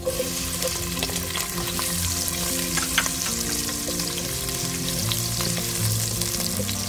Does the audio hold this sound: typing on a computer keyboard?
no